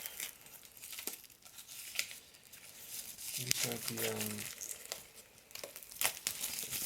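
Close-up crinkling and tearing of plastic wrapping on tabletop game components in short rustling bursts, while a voice speaks briefly.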